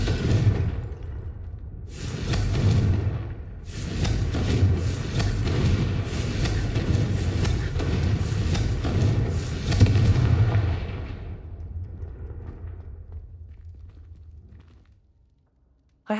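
Confringo blasting spell explosions in the Hogwarts Legacy video game, a dense roaring run of booming blasts and crackling fire lasting several seconds before fading out.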